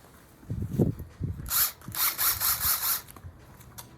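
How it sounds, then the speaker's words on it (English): A power drill bores holes in plant pots, with a few handling knocks first, then a run of short, buzzing whirs in quick bursts close by before it stops. "So those other pots, I need to drill holes in them."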